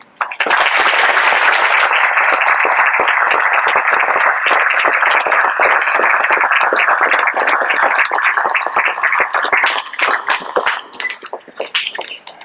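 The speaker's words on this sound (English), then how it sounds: "I think we deserve to give ourselves a round of applause." An audience at a school's 100-day celebration gives a long round of applause, a loud, dense roar of clapping that holds steady, then thins into scattered individual claps before stopping.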